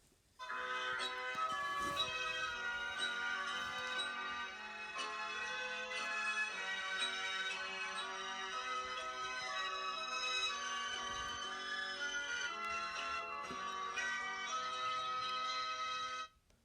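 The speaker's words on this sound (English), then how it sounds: "The theme song sounded low pitched." The In the Night Garden theme plays steadily at low volume and low pitch, bright bell-like tones repeating in a cheerful tune with no voices.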